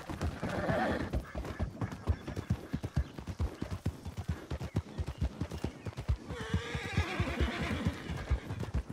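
A thoroughbred grey horse in the game RedM gallops with a steady, rapid clip-clop of hooves throughout, with whinnying neighs near the start and again toward the end, fairly close and clear.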